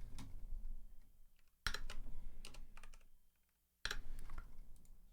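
Rapid clicking keystrokes on a computer keyboard in a home setup, coming in bursts with brief pauses, close and fairly clear with no talking.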